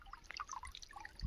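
Water from a farm motor pipe trickles and drips in a field, faint close patters and small splashes in an irregular rhythm, with no talking.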